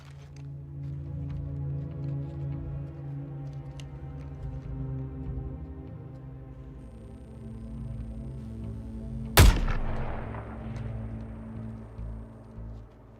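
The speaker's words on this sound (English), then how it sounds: "Take the shot already!" A single sharp gunshot in the Suicide Squad video game cracks out loud and close against a low, steady ambient drone, then decays quickly back into the quiet background.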